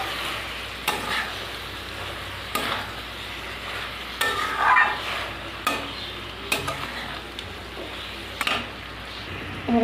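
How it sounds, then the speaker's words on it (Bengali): A spatula scrapes and stirs a drying green bean (borboti) mixture in a pan over low heat, giving intermittent scraping strokes over a faint, steady sizzle, with no talking. "হালকা আঁচে আমি এরকম করে জাল দিয়ে নেবো, আস্তে আস্তে হবে।"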